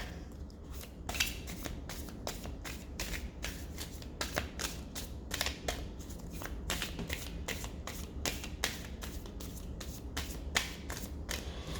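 A deck of cards being shuffled over and over, crisp riffling bursts repeating in a steady rhythm, close and clear with no talking.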